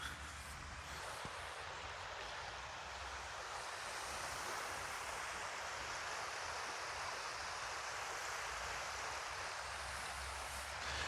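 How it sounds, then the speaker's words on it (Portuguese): Small gentle waves lap in calm, sheltered bay water at Vila da Glória, São Francisco do Sul, a steady soft wash with some wind across the microphone and no voices. "ela não forma ondas grandes, só essas ondinhas assim, olha"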